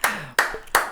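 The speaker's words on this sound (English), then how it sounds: "Give a round of applause." Three sharp, close hand claps ring out at an even pace with short gaps between them, and a faint voice sounds briefly beneath the first.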